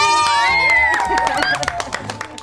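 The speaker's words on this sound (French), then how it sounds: "on l'applaudit!" Children in a classroom cheer and clap during a quiz, with high excited shouts and squeals up front, then scattered hand claps taking over as the voices fade.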